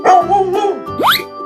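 A cartoonish dog barks twice in an animal slide video game, close and loud, followed by a short rising yip.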